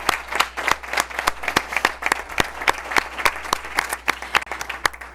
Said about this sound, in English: let's give Benjamin a round of applause